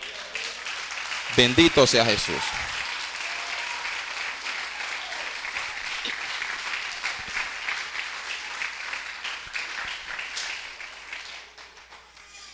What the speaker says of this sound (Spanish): ¿Cuánto le brinden un aplauso al Señor?